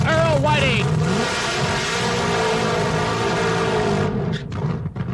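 A 4,000-horsepower supercharged, fuel-injected top fuel nitromethane dragster launches down the Firebird drag strip with a loud, sustained roar that fades after a few seconds, while an announcer talks over it.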